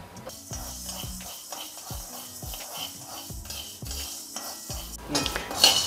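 Green gram dry-roasting in a pan over a slow flame, stirred in repeated rhythmic scrapes that set the dry beans rattling and skittering against the metal, with a louder clatter near the end.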